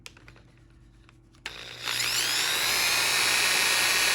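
A power drill bores a pilot hole for a screw during a Honda Element micro-camper build, starting abruptly after faint handling clicks and holding a loud, steady high whine to the end.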